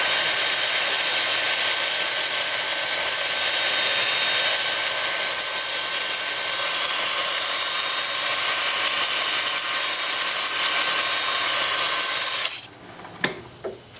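Olive wood turning on a lathe is sanded, giving a loud, steady abrasive hiss that runs unbroken for about twelve seconds before cutting off into a few faint knocks.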